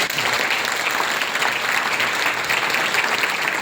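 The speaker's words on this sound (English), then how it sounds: "Let's give Dr. Dan another round of applause" A sustained round of applause from a conference audience in Kuala Lumpur greets Dr. Dan Gubler after his talk, loud and dense, continuous clapping with no voices over it.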